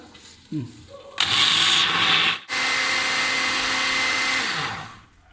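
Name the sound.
blender grinding soaked lentils into coarse paste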